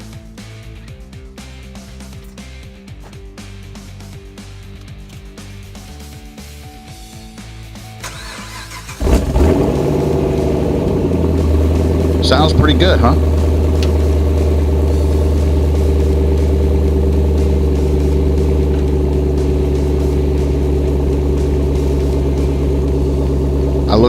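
AMC car engine with a Vararam cold air intake and Power Wedge mod fires up after a quiet stretch, catching loudly and settling into a steady, strong idle, with someone briefly speaking over it.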